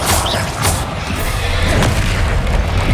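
Bombarda spell blast in the video game Hogwarts Legacy, a loud close boom with crashing debris and a rumbling low tail, followed by smaller thuds amid ongoing combat effects.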